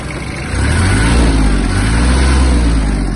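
The diesel engine of a Japanese Kubota KL-2450 Hi-speed mini tractor revs up loudly and holds a deep, throbbing rumble close by, with no voices.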